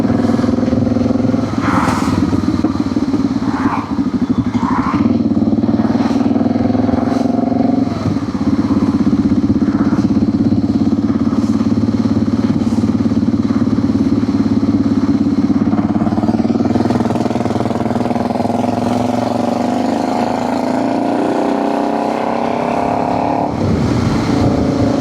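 Motorcycle engine droning steadily while riding on the road, loud and continuous with wind noise, the pitch shifting slightly as speed changes, with no talking.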